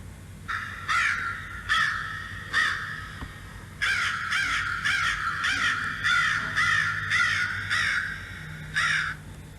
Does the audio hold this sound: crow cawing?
yes